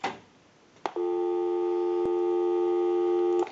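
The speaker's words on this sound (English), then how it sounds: "We'll call my number and it'll be busy." A steady electronic telephone busy tone on an Automatic Electric three-slot payphone drones close and clear after a brief click, with no voices.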